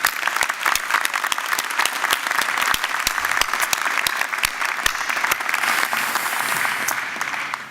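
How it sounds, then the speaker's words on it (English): Dense, steady applause from a large convocation ceremony audience fills the hall at an even, loud level for the whole stretch and fades slightly at the end. "Let's give them both a round of applause."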